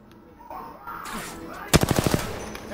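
Rapid automatic gunfire bursts out in the battle royale game Apex Legends, a sharp cluster of about half a dozen loud, closely spaced shots near the end, after quieter ambient game noise.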